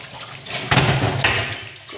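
Plain tap water runs and splashes over vegetables being rinsed in a home kitchen, a steady close stream with a louder surge of splashing midway.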